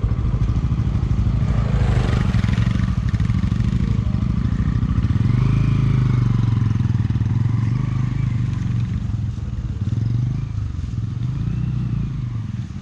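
A motorcycle ride on the way to Sikles, a highland village in Nepal. A steady, close engine drone with rattling clatter continues throughout, and faint voices can be heard.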